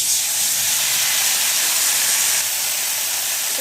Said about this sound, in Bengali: এর মাঝখানটা আমি একটু ফাঁকা করে একটু জল দিয়ে দিচ্ছি